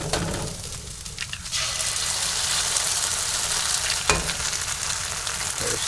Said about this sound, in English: Just gonna add some rice just to heat that up.